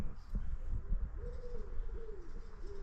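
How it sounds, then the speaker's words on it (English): In a spring garden, a dove or pigeon coos softly with a few drawn-out calls at a moderate distance, over low rustling and background noise. "the birds collecting for their nests"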